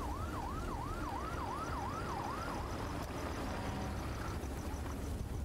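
An ambulance siren in the fire-simulation video game Fire Commander wails in a repeating rising-falling pattern for a few seconds over road noise, then cuts out, leaving a faint, distant-sounding rumble.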